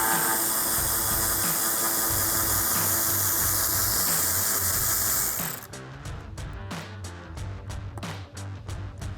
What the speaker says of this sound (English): using my 10mm socket and ratchet, I'm going to remove the 2 bolts here on the front of the headlight